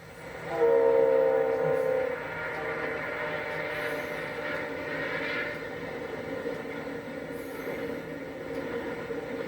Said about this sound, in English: a northbound train highballs past on the main line